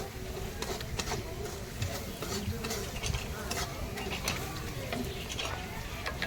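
Puti fish (small barbs) fries in oil with a soft, crackling sizzle, broken by repeated scraping and clicking as it is stirred in the pan at a street food hotel.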